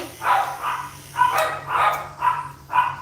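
Several dogs bark while a dog is being groomed indoors, a lawn mowing crew having arrived outside; six or so close, loud barks come in an uneven rhythm over about three seconds, with a low steady hum beneath.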